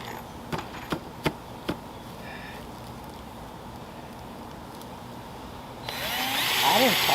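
A power drill drives 3-inch screws into a wooden board for a raised garden bed. A few sharp knocks come first, then a quiet stretch, and the drill's whirring, rising motor whine starts near the end and grows loud.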